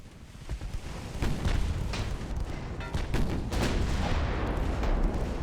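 Warship main guns fire in a naval battle in Ultimate Admiral: Dreadnoughts, a run of deep booming blasts and sharp cracks coming in quick irregular succession, loud and heavy over a rumbling low background with no talking.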